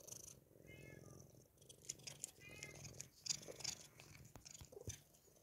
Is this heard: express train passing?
no